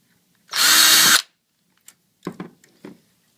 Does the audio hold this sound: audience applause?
no